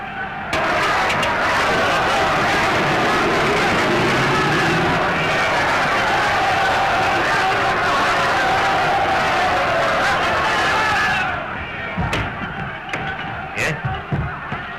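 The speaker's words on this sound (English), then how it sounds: "The crowd outside are in a terrible state of excitement." Excited crowd clamouring outside after an attempt on a general's life, a loud, sustained roar of many voices with a vehicle engine mixed in, dropping away near the end to scattered thuds and knocks.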